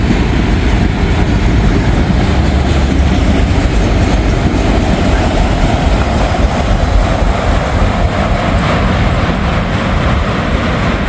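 A freight train rolls steadily along tracks beside US 52, heard as a loud, continuous rumble and clatter from close range with no break for the whole stretch.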